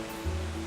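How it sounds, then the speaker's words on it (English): Looking Glass Falls, a 60-foot sheer waterfall north of Brevard, dropping into a small pool, heard as a steady broadband rush of falling water, even and unbroken for a brief moment. "Beautiful waterfall."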